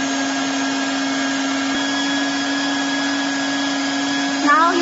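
A heat gun on a TOP2000D welding machine runs with a steady, loud blowing hum and a constant tonal whine throughout, with a brief shift in pitch near the end.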